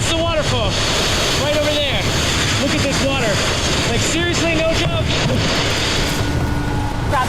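Floodwater rushes loudly and constantly past a nearby waterfall, a dense roar mixed with wind buffeting the microphone while people talk over it.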